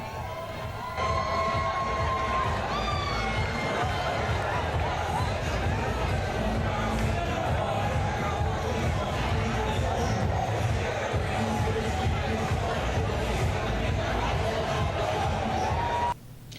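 A large crowd gathers at a first-of-its-kind modelling show in Dominica, a dense, steady roar of voices and cheering that holds loud and continuous throughout, with no single voice standing out.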